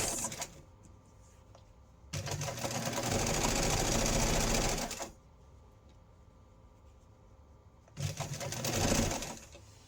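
Sewing machine stitching straight across fabric envelopes for a Christmas advent project, two loud steady whirring runs of about three and one and a half seconds separated by a quieter pause.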